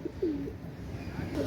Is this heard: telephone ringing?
no